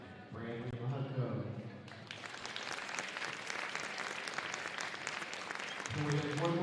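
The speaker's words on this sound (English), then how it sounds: "Can we have one more round of applause for our seniors?" A gym crowd breaks into loud, sustained clapping for seniors at a varsity high school wrestling meet, following an announcer's voice over the PA, with speech returning at the end.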